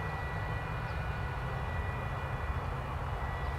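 Airplanes at DFW Airport lined up on the taxiway, a steady, distant jet engine roar and hum that stays even throughout with no talk.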